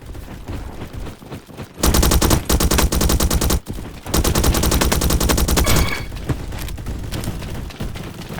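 Rapid automatic fire from a Skorpion vz.61 submachine gun in the video game Bad Business, in two long dense bursts separated by a brief pause, loud and close with no voices.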